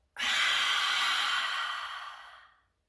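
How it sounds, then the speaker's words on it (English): Children take a single long, loud breath in and let it out in a yoga breathing exercise, a steady airy rush that swells quickly and fades away over a few seconds, with no talking. "So do a big breath in, and let it out."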